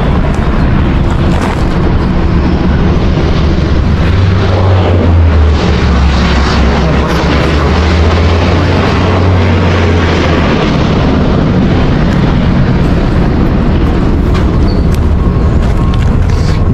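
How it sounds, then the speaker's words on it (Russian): Jet airliners taking off near Los Angeles airport, a loud continuous roar of engines that swells and rumbles for the full stretch, heard close from outside with no talk. "Тут каждую минуту взлетают самолеты, просто каждую минуту."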